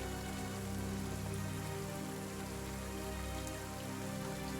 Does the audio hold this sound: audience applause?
no